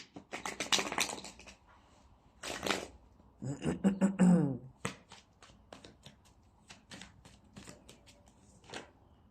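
Tarot cards being shuffled up close, in quick riffling bursts and a longer bridge-like cascade, followed by scattered soft taps and flicks of cards being handled.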